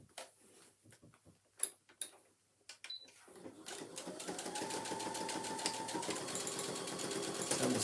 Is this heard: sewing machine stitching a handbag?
yes